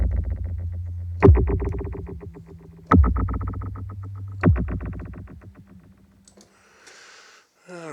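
Oxid audio plugin's Mysterious Echo 2 preset: three loud struck chords each decay into a dense, fluttering train of repeating echoes, fading out before a faint noisy wash and a final hit.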